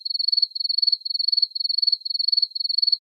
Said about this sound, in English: the sound of crickets on warm summer nights